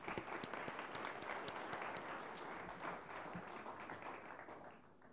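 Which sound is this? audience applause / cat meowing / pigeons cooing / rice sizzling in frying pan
audience applause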